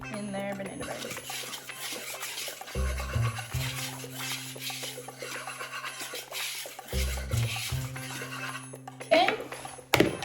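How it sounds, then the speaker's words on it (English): Dry ingredients for chocolate chip banana bread are whisked in a bowl, a fast scratchy clatter of wire against the bowl in short bursts, with someone talking between strokes. "we're gonna whisk those together"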